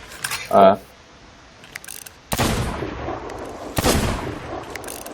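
Gunfire in Sea of Thieves: a sharp burst near the start, then two loud broadband shots later, each followed by a decaying tail, with faint game ambience between.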